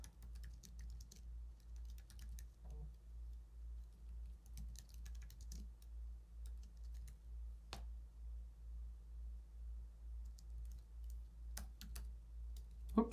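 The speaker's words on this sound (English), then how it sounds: "All right, typing it in the comments." Keys tapping on a computer keyboard in irregular bursts of soft, close clicks over a low steady hum, with no talking.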